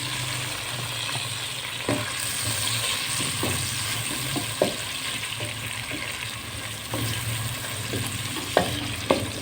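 Tomatoes added to hot ghee and oil for mixed vegetable pulao, with a steady loud sizzle and frying hiss and a few soft clinks and scrapes of a utensil against the pot.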